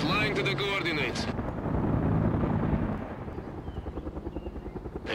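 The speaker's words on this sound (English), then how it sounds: "Heavy gunship skimming the treetops" Heavy helicopter gunship from the game World in Conflict skimming low over treetops, a loud continuous rotor and engine roar mixed with explosions and rumble, with radio-style voices talking over it.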